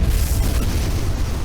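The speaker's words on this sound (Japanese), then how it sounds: "爆音が大地を揺らし、" A loud, rumbling explosion effect from a sci-fi robot battle, a dense sustained boom with heavy low-end roar filling the whole short stretch, close and overpowering with no other sounds.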